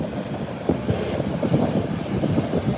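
ATR 72 turboprop airliner taxiing at an airport, a steady droning engine rumble heard from some distance with a faint high whine above it.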